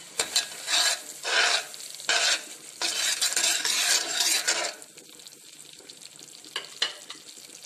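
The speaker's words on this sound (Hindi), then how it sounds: "अब इसमें हम नमक और सुर्ख मिर्च डाल देंगे और जीरा डाल देंगे। इसको दोबारा भूनेंगे।" Masala fries in a pan with salt, red chili and cumin, as rhythmic scraping stirs rasp against the metal over a light sizzle, close up, then settling into quieter frying.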